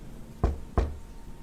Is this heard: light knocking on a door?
yes